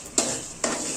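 Chicken masala frying and bubbling in a pan, a close, steady sizzle broken by two sharp bursts of stirring or scraping against the metal.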